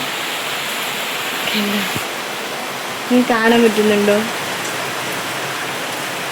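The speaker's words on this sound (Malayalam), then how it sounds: "അടിപൊളിയായിട്ട് മഴ പെയ്യുന്നുണ്ട്." Heavy rain falls steadily as a dense, even hiss that fills the whole stretch, with a voice briefly speaking over it partway through.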